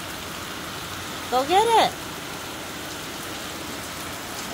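Heavy rain from a passing hurricane falls in a steady, dense hiss throughout, with a short human voice rising briefly over the downpour.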